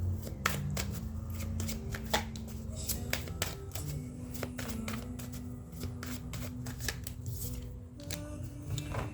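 Tarot cards being shuffled and handled at close range, a steady run of crisp riffling slaps and flicks with a low hum underneath and no talking.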